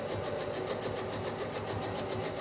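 A sewing machine runs steadily while quilting a four-patch block with spirals, giving a continuous mid-pitched mechanical hum with a fast, even stitching pulse throughout, close and fairly quiet.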